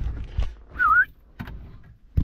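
A single short whistled note, a bright wavering tone lasting under a second, heard indoors amid soft clunks and rustling.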